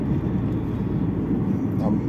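An Alfa Romeo 166 engine drones in a steady low rumble from inside the car while driving, loud and continuous for a couple of seconds.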